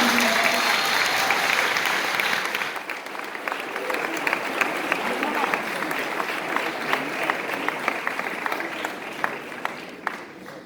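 Audience applause and cheering for award winners at a boys' school drama competition semi-final results announcement, a dense, loud burst at first that settles into sustained steady clapping with scattered sharp claps throughout.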